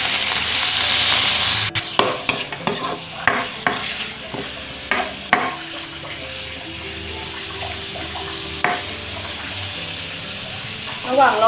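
Pork is stir-fried in a pan, sizzling loudly at first, then a run of sharp spatula scrapes and clanks against the metal over a softer, ongoing hiss, with a bit of voice near the end.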